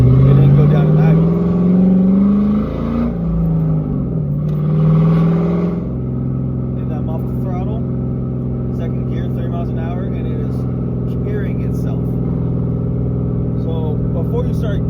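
A built, cammed 2001 Ford Mustang GT engine runs at a high, steady idle that never settles down, with a brief rising rev near the start; constant and loud throughout.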